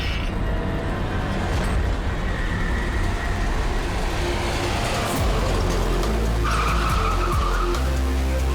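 A car brakes hard on an empty road, its tires squealing and skidding in a long, loud screech that shifts in pitch before the engine settles, with no one speaking.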